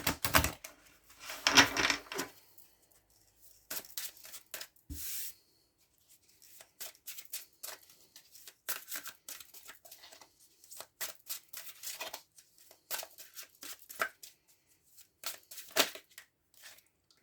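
Tarot cards being shuffled by hand, soft irregular flicks and riffling rustles close up, loudest at the start then continuing in quieter intermittent bursts.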